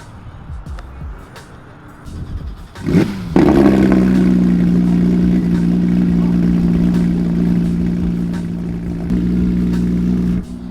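A loud Porsche sports car engine barks to life and revs loudly at a car show, then settles into a deep, heavy idle that rumbles on close by.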